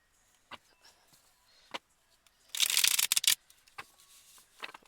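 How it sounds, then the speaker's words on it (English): A deck of cards is riffle-shuffled in one quick, crisp flurry of close fluttering snaps. Soft handling taps come before and after it. "So, one more shuffle."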